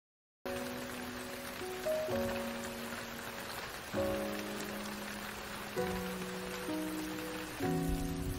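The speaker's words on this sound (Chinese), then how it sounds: "这刚刚还晴万里，怎么突然就下雨了？" A sudden rain shower in a drama scene gives a steady, even hiss that runs throughout, laid under sustained musical chords that shift every couple of seconds, with no voices.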